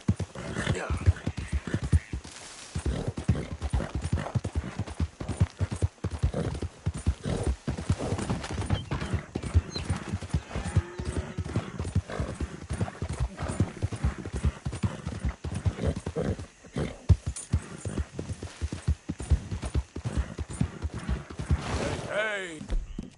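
Horse hooves clip-clopping at a steady gallop in the Red Dead Redemption 2 video game, loud and continuous throughout with an occasional whinny and brief spoken remarks over the hoofbeats.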